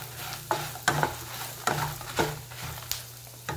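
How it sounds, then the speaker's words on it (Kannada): Cumin seeds fry in hot oil with a steady sizzle while a spoon stirs them, scraping the pan in a string of regular sharp strokes about every half second, close and clear. "ಫ್ರೈ ಮಾಡೋಣ ಸ್ವಲ್ಪ."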